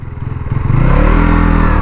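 A KTM Duke 390 motorcycle engine runs close and loud, its low throbbing idle swelling into a steady, stronger rumble as the revs rise partway through.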